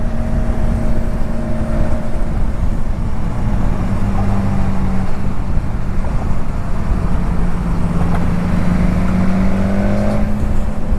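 A 2019 BMW S1000XR motorcycle engine drones while riding at around 3,000 RPM, a loud steady hum and rising whine mixed with constant wind and road rush, with no talk.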